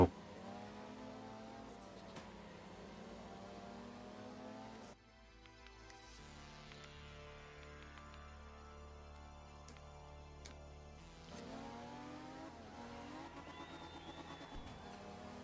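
Race car engine in a racing video game accelerating and revving, its tone climbing in pitch through repeated gear pulls, steady and loud, with a brief drop-out in the middle before the engine roars back up.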